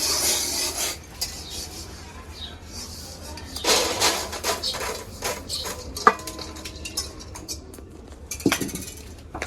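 Fried peas and chickpeas poured and strained in a home kitchen, giving close metallic clinks and rattles of grains against a strainer and pan, with bursts of clattering and a faint sizzle beneath.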